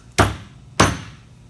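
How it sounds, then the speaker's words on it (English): Two loud, ringing hammer blows strike sheet metal up close, about half a second apart, shaping a part for a Ducati Monster motorcycle. "Now as I hammer and hand shape this into here"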